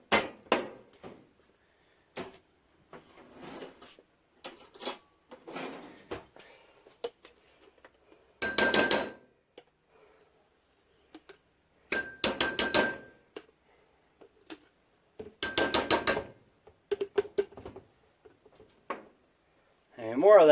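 Homemade butter is scooped out of a shaker into a container, with several bursts of clinking and scraping against glass and plastic spread across the span, separated by short pauses.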